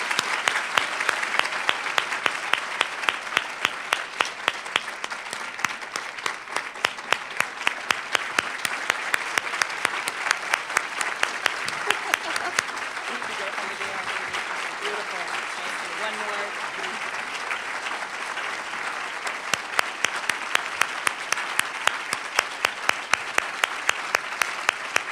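Audience applause for a woman receiving a courageous leader award at a ceremony, a dense, sustained ovation of many hands lasting the whole stretch, loud and steady with a slight lull midway before swelling again.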